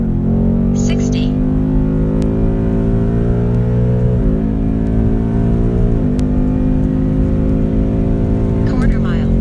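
A 2020 Mustang GT accelerating hard in a 60-130 roll race, its engine note climbing steadily with brief dips at each gear shift, loud and close from inside the car.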